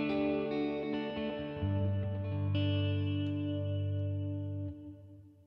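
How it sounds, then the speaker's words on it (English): Electric guitar played through a modulated reverb on a Neural DSP Tone King Imperial amp model, sustained chords swelling and shimmering with a wavering, chorus-like wash that slowly decays, no talking. "That's some kind of modulated reverb."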